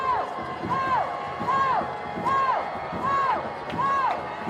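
At a high school prep football game between De La Salle and St. James, the crowd keeps up a rhythmic, repeated chant with cheering in regular swells, with a voice talking over it.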